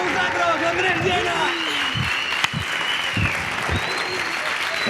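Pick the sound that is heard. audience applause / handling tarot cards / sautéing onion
audience applause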